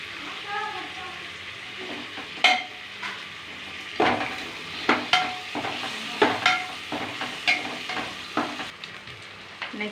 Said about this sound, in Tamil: அடுத்து புதினா தழை போட்டுக்கலாம். எண்ணெயிலே நல்லா வணங்கிக்கலாம்.